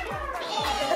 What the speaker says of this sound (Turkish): Kediler.